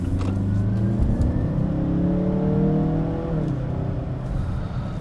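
A 2016 Mazda CX-9 crossover engine accelerating hard, a loud steady drone whose pitch climbs smoothly, dips at a gear change around the middle, then climbs again, heard close from inside with no talking.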